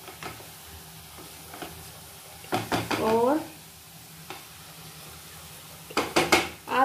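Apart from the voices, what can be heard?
stirring spices into fenugreek and mushroom in a pan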